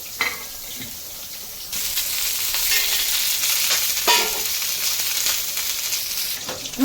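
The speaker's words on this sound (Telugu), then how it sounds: "ఉల్లిపాయ ముక్కలు అయితే ఇంకా ఫ్రై చేద్దాము. కొద్దిగా నూనె వేసి ఫ్రై చేద్దాం." Onion pieces fry in a little oil, a soft sizzle swelling into a loud, continuous close-up frying hiss with a few stirring scrapes, no voices.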